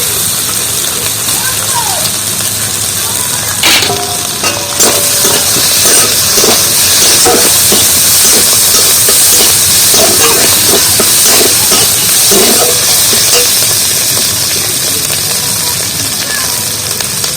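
Soybean chunks frying in a hot pan give off a loud, steady sizzle and hiss that runs throughout, with faint clatter and a voice underneath.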